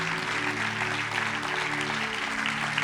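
Sustained applause from a church congregation at a Spanish-language service, a steady broad wash of clapping with a faint tonal hum beneath, continuous and fairly full throughout.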